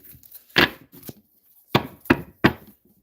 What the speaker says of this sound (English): So they said to shuffle one more time.